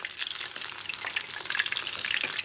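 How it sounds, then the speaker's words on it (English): Scotch eggs deep fry in a 4 centimetre deep bath of hot vegetable oil, giving a steady, close bubbling sizzle with crackling pops throughout. "lower the eggs carefully into a 4 centimetre deep bath of hot vegetable oil for 10 to 12"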